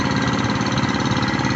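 Hand tractor engine chugging steadily in a rice field, a loud, close, continuous idle-like putter with an even mechanical rhythm and no voices.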